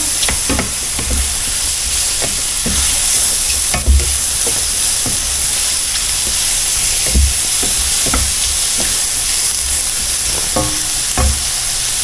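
Butter sizzling and crackling in a hot pan before frozen meat goes in, a constant frying hiss with scattered pops and occasional scraping stirs.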